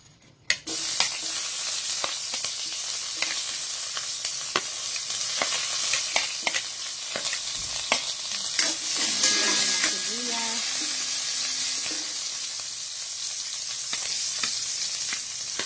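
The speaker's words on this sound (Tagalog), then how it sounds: "Lutuin na po natin ang ating adobong pusit." Squid adobo sizzles steadily in a pan, with intermittent scraping and stirring clicks from a utensil throughout, the frying hiss loud and close.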